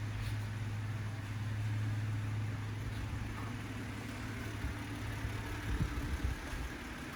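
A 2019 Subaru Legacy 3.6R's engine idles at a low, even hum, steady and fairly quiet throughout, with a slight rough patch near the end and no talking.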